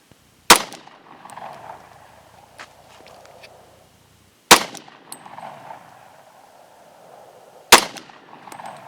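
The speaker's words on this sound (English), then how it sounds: "So here is the Glock 27. This is in 40 caliber." Three sharp, loud shots from a Glock 27 pistol chambered in .40 caliber, spaced a few seconds apart outdoors, each a hard crack with a short echoing tail and quieter handling noise between.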